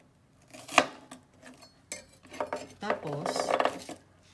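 Kitchen clatter while an onion is cut on a board for sisig-style prep beside steamed barramundi: a sharp knock near the start, then scattered clacks and a busier run of chopping and utensil noise, with brief talk.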